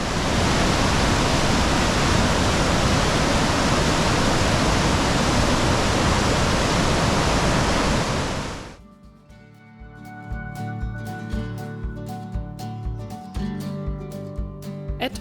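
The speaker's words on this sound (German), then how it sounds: "wir kamen an einem eindrucksvollen Gebirgsbach, welcher weiter unten in die Korinthiker mündet, vorbei" A loud, steady rush of water from a mountain stream in the Julian Alps, Slovenia, fills the first eight seconds, then cuts abruptly to quieter, clicking background sounds.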